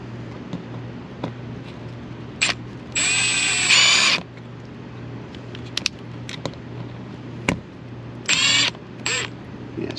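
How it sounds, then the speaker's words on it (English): Power drill boring through carpet in an ND Mazda Miata to fit underglow lighting, with a couple of loud whirring bursts of a second or so plus a short blip, heard close up over a steady background hum. "So what we do is we drill"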